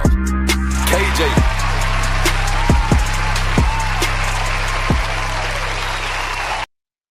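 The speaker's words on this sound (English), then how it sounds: "Give a round of applause." A podcast intro plays applause from a crowd, a steady wash of clapping over a booming music track with bouncing bass hits, loud and continuous before cutting off abruptly.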